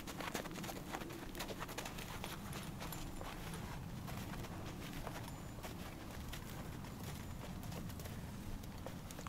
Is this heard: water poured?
no